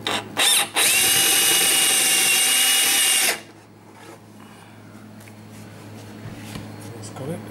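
A power drill starts with two short bursts, then runs in one loud sustained whine for a few seconds before stopping, leaving quiet handling noises.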